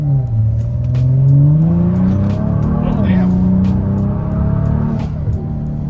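A built Kia Stinger pulls hard at full throttle, its engine note climbing steadily in pitch as it revs up, loud and close from inside the cabin, with a brief exclamation from an occupant over it.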